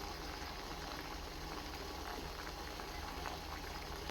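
An herbal soup with ajwain, cumin, guava leaves, drumstick leaves and tulsi boiling in a pot gives a steady, continuous bubbling and rumbling with no pauses, heard close and low in level.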